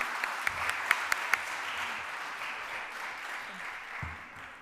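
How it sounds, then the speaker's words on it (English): Quiet, thinning applause from an audience for two speakers at a civic talk, a few sharp nearby claps standing out early before the sound fades toward a low murmur. "Just want to give Noah and Lynelle a round of applause, please."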